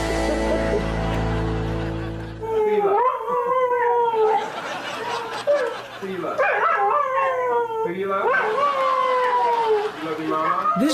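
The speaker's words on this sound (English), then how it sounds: "This doggy is singing a duet with the pooch on the videotape." A dog howls along with a dog on a videotape. A long low tone opens the clip, then drawn-out howls and yips rise and fall repeatedly, loud and close, with no talk.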